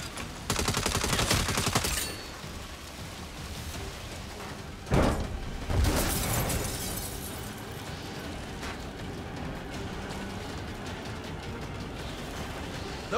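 Turret gunfire in the Saints Row reboot video game, a loud rapid burst at the start followed by a few heavy blasts and a quieter rumbling game background, no talking.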